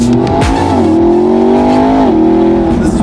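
A McLaren supercar driven fast on a track, its engine loud and close, shifting through rising revs with brief gear-change dips and a faint tire squeal.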